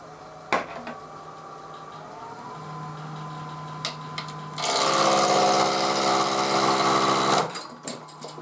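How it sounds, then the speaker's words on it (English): A clay former being turned on a lathe, with a cutting tool taking a steady controlled cut; a loud burst of harsh scraping rises midway for a few seconds as a big lump breaks off, then drops back to a quieter hum. "Big lump came off there, did you hear that?"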